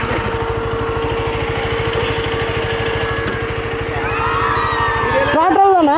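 A motorcycle engine revs hard on a beach, running as a steady, rapid pulsing drone that climbs in pitch toward the end. People talk over it throughout.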